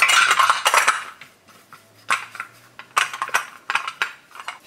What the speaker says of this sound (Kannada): ಎಲ್ಲ ಇಡ್ಲಿ ಪ್ಲೇಟ್ಗಳಿಗೂ ಸ್ವಲ್ಪ ಎಣ್ಣೆ ಸವರ್ಕೊಂಬಿಡಿ ಮುಂಚೆ,